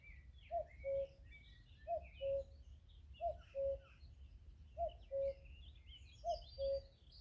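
A bird calls repeatedly on a warm summer evening outdoors, paired two-note phrases repeating about every one and a half seconds, moderately near and clear over a low background hum, with faint chirps from other birds behind it.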